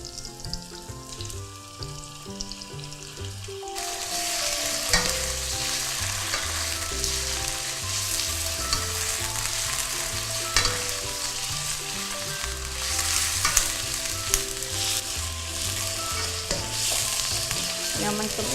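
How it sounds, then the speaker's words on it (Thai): Loud, continuous sizzling and scraping as chicken is stir-fried in a hot wok, with music in the background throughout. "ตามด้วยเนื้อไก่นะคะ"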